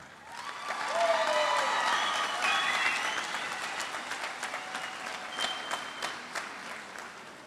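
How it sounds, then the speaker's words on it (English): Graduation audience at a 2021 college preparatory academy ceremony applauding, a sustained wash of clapping that swells quickly, holds steady for several seconds, then thins slightly while continuing, moderately distant in a large venue. "give them a round of applause."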